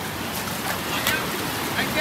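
Sea water surges into a rocky cave, a steady broadband wash of churning waves close by, with faint voices in the background.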